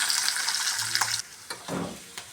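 Onions hit a hot pan already holding ginger, a bright sizzle that flares loudly at first, then settles into softer frying with brief stirring scrapes.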